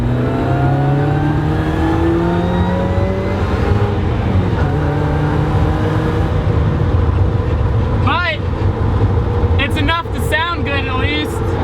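A supercharged Mazda Miata rally car running 6 pounds of boost on stock injectors accelerates hard. Its engine note rises steadily in pitch over a loud, continuous drone, and sharp chirps and whistles follow toward the end.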